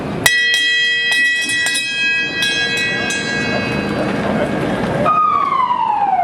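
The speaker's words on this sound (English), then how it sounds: "then we'll ring the bell" A bell rung to start a 5K race, its bright metallic strikes clanging repeatedly with a long ringing tone over a noisy outdoor crowd, followed near the end by a falling siren-like wail.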